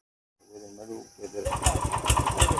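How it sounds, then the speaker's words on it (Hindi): A tractor engine cranks and catches in a village field, rising from a low turning-over into a loud, steady chugging idle with rapid rhythmic pulses; faint voice-like sounds precede it. "तो भाई ट्रैक्टर भी हो गया स्टार्ट"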